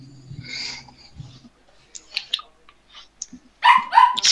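A small dog gives a few scattered, sharp yips and barks indoors, with quiet gaps between them and a louder cluster of barks at the end. A person talks briefly under some of them.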